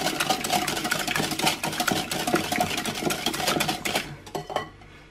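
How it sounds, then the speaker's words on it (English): Cream being whisked into waffle batter made with almond flour, a fast continuous rattling and scraping of a whisk against a bowl, close and steady before stopping abruptly, with no talking. "We'll whisk that in."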